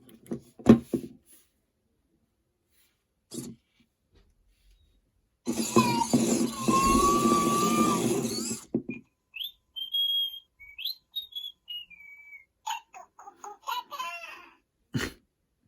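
A STone8 toy robot starting up with odd electronic noises: a burst of broadband buzzing with a sliding tone, then chirpy, whistle-like beeps and warbles, fairly close and moderately loud, with a few brief clicks around it.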